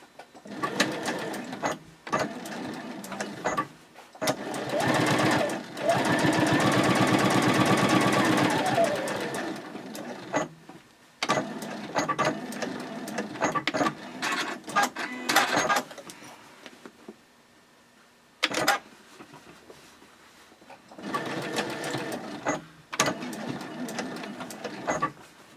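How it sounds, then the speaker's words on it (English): A sewing machine top stitches the gusset of a sling bag in three separate bursts of steady, rapid stitching, with quiet pauses between them. "begin your top stitching"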